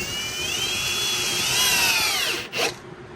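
A power drill drives a large number 10 by 2 inch screw, its motor whirring close and steady with rising and falling pitch, then briefly pausing before a short final burst.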